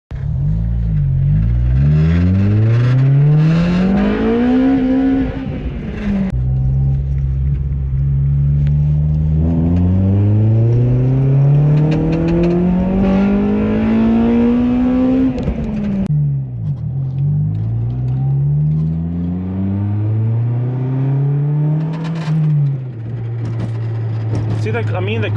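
An Acura RSX Type S engine on a test drive after a coilover suspension fix revs up repeatedly, pitch climbing through the gears then dropping, loud and close from inside the moving car.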